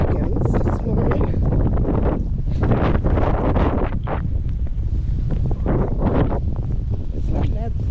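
Wind gusts buffet the microphone outdoors in snow, a loud, uneven rushing roar that swells and fades in bursts throughout, with a person talking.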